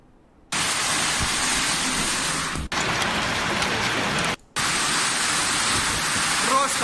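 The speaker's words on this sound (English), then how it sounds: "Hailstorm in Russia." Heavy hailstorm in Russia, a loud, dense roar of hail battering surfaces that runs continuously, broken by two brief gaps where it cuts out.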